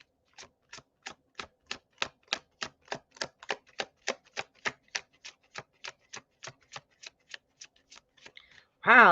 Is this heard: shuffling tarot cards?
yes